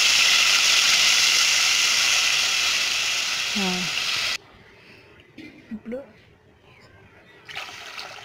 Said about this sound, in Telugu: అయితే వాటర్ పోసుకుందామండి.